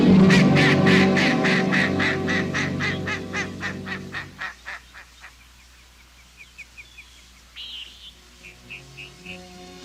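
Ducks quack and honk in a loud, rapid, evenly spaced series that fades over several seconds, followed by softer scattered calls and a few higher bird notes in open wild surroundings.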